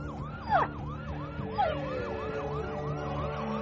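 An ambulance's wailing emergency siren sweeps up and down repeatedly over traffic rumble, fairly close and steady in loudness.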